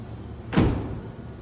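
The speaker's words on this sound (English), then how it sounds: "First step we're going to do is we're going to shut our door." An RV door is pulled shut once, giving a single short, solid thump with a brief rattle that fades quickly into quiet background.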